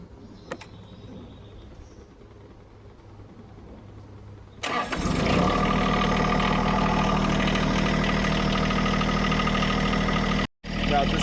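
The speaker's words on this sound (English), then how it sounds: "So I'm gonna go ahead and start this tractor up." John Deere tractor with a bucket assembly: a few seconds of quiet, then the engine cranks and catches abruptly, settling into a loud, steady, close idle that rumbles on with a brief dropout near the end.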